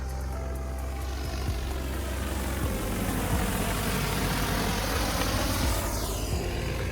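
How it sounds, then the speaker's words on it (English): An agricultural drone seeding rice and Japanese millet over a drained duck swamp, giving a loud, steady rotor whine and drone that runs unbroken through the clip with no talk. "We are seeding Japanese millet into a big duck swamp out here. We've got it drained down and we're doing it with a drone."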